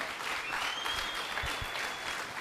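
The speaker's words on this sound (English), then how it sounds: "A round of applause." Audience applause at a team-building and stakeholder relations workshop, a steady wash of clapping filling the short moment at moderate level with no speech over it.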